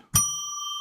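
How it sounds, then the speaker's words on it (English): A single struck bell rings once with a bright attack and a long, steady sustained tone that lingers clearly and alone. "Let's ring a bell 3 times to declare sacred space."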